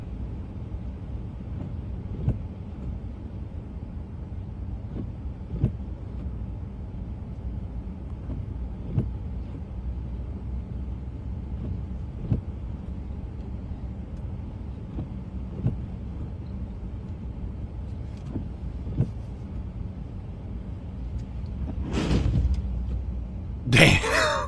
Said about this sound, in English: the sound of the water from the other car hitting this truck was wild